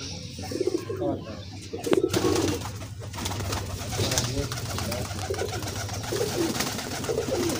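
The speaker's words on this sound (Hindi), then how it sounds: "ए बेहतरीन हड्डी का कबूतर है।" Sialkoti pigeons coo softly and repeatedly amid a busy, noisy background, with a voice talking over much of it.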